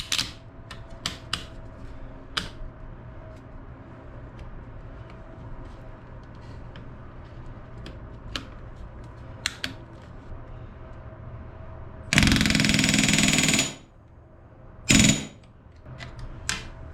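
A pneumatic rivet gun sets rivets in the aluminum nose ribs of a Bearhawk aircraft under construction: scattered sharp clicks and taps, then a loud, close burst of rapid hammering lasting over a second, followed by one shorter burst, with no talking.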